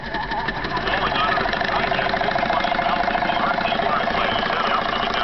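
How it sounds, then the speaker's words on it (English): Small engine of a twin generator setup running under heavy electrical load, a dense, steady mid-pitched drone with a rough knocking texture, close and continuous, with a voice faintly underneath. "Look at the load it puts on the engine."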